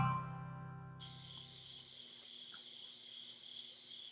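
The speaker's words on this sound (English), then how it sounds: "All we hear from your background, Eric, is crickets" Crickets chirp in a steady, high, continuous trill behind a phone-in radio call. After a fading low tone at the start, the trill continues faint and unbroken.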